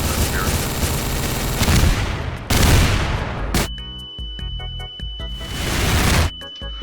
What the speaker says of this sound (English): It's a shotgun thing. But just like a ton of ammo at once.